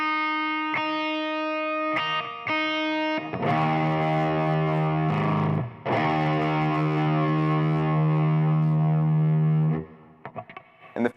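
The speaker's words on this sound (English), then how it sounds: "the strings are detuned, they're a little slinkier, and you get a little bit of a heavier sound" A detuned electric guitar with slinkier strings is played through heavy distortion, with a few picked notes and short bursts building into thick, sustained hard-rock chords that cut off near the end.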